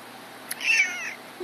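A single short meow from a large-footed male house cat, fairly close and moderately soft, rising and then trailing off in a quiet room with no one talking.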